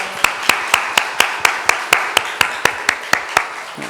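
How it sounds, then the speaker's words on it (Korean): Church congregation claps in a slow, even unison rhythm, about sixteen sharp, loud claps evenly spaced, with no voices over them. "하나님께 영광 박수 올려드리겠습니다."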